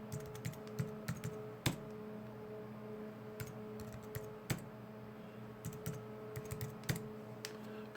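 Computer keyboard typing while logging into a TP-Link powerline adapter, with close, steady key clicks in short bursts and a few louder key strikes over a constant electrical hum.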